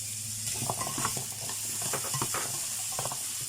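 Candle nuts sautéed in a pan for pork adobo, a steady close sizzle of frying with intermittent scraping and stirring clatter on top, no voices.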